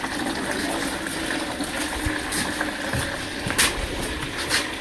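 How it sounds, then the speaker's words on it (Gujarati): Water gushes steadily from a village pump or pipe, a continuous broadband rush with a few louder splashes, close by and without speech. "પાણી તો સારું આવેલું છે ને."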